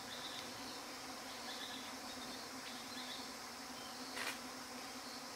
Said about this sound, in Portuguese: E o que encanta, a mim, particularmente, o barulho das abelhas.